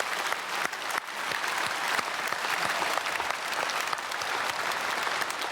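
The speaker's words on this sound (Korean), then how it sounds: "우리 크게 박수로 축복하겠습니다." A packed church congregation at a special early-morning service in Korea claps loudly in blessing; thick, sustained applause fills the whole stretch, even and continuous with no talk over it.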